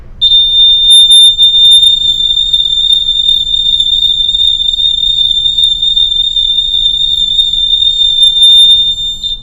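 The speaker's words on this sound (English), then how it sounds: "when I move the source of the sound, this buzzer, as it's moving toward the microphone" Electronic buzzer sounding a steady, loud high-pitched tone, carried around by hand near the microphone so its pitch shifts slightly as it moves toward and away, continuous throughout without talk.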